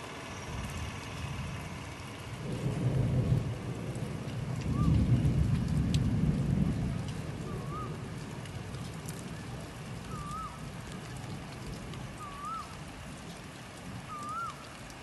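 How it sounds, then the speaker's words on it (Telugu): A thunderstorm over Narsampet in rural Warangal district brings steady close rain, with two deep rolling thunder rumbles early on, followed by continued rain and faint repeated chirps. "మెరుపు ఉరుములలో వర్షం పడుతూ ఉండగా"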